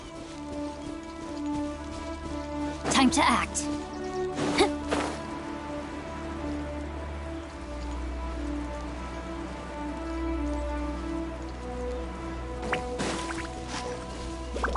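Steady rain patters on a surface throughout in the video game Genshin Impact, with a few louder bursts of sound breaking through and a brief spoken line partway in.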